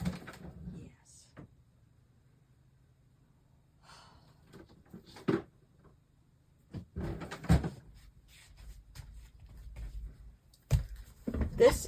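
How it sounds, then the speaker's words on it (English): In a mixed-media art journaling workspace, a drawer of backup paint is slid open and shut with scattered wooden knocks and clatters across a quiet room, and faint voice sounds come in briefly. "Go into one of my drawers for some extra backup paint."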